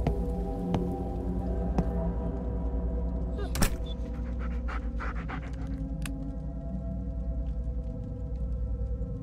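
A dog pants steadily in an indie horror video game, with quick rhythmic breaths close up over a steady patter of rain and a few sharp ticks and knocks.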